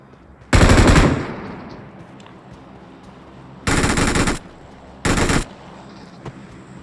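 Gunfire in a shooting video game, three loud separate bursts, one at the start and two close together later, with a quiet gap between them.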